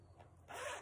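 A zipper on a Franklin Covey Vintage Aurora binder is pulled in a quick, close, quiet zip that ends in a brighter rasp.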